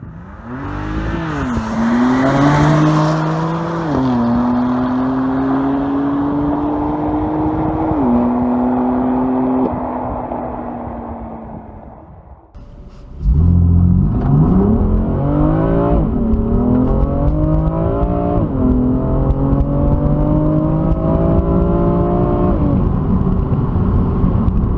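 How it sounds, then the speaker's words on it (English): A BMW M4 Competition accelerates hard, its engine note rising through the gears with clear shift breaks. It goes quiet for a moment partway through, then pulls strongly again close and loud with no talk over it. "this is a quick car for me"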